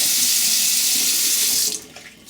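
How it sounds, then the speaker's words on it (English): Hot water and cooked chickpeas pour out in a steady, loud rushing splash into a sink, then it abruptly stops, leaving a few small drips and clinks. "we're going to dump them out of this hot water"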